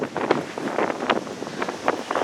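Gusty wind buffets the microphone in uneven rushing bursts, rising and falling without pause, with no voices present.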